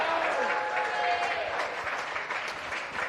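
A crowd at a lawn bowls preliminary final erupts in sustained cheering and applause, a dense, loud wash of clapping and shouting that holds steady throughout.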